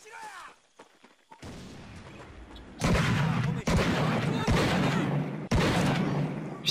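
Gunfire in the video game Medal of Honor Pacific Assault: a few faint shots early on, then after a quiet gap a run of loud, close bursts of rapid fire, broken by brief pauses.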